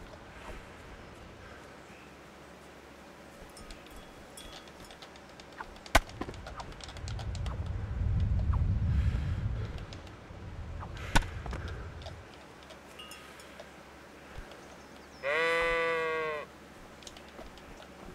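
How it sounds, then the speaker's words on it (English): Sheep bleat in the medieval role-playing game Kingdom Come: Deliverance, one short wavering bleat standing out near the end over quiet ambient game sound, with an earlier low rumble and a few sharp knocks. "gather the sheep over here"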